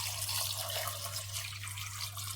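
Water is poured steadily into a cooking pot over washed rice and toor dal for sambar rice, a continuous splashing gush that runs close and loud with no talking, over a low steady hum.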